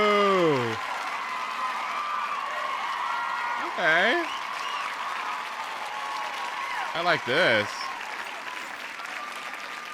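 Steady hand clapping fills the background through a gaming session, rising briefly in bursts while a person talks and exclaims over it.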